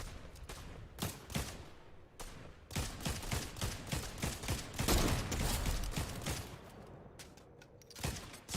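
Pulse rifles fire in a Fortnite Zero Build match, rapid bursts of clattering shots running in quick strings, moderately loud and with no talk.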